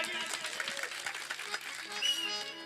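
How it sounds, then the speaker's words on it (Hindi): An audience claps at a live stage show, a short, moderately loud burst of scattered applause mixed with crowd voices and some singing-like tones. "बजाओ किसके ताली।"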